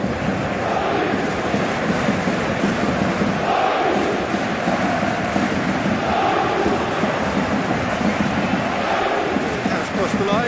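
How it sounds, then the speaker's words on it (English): A stadium crowd in a football video game roars and murmurs continuously in a dense, washy wall of noise, with a commentator talking over it throughout. "you can feel and hear how the crowd are reacting to all of this."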